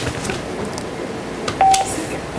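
One short electronic telephone tone cuts through a steady, noisy hiss as a call connects during a live call-in segment of a teen pageant broadcast.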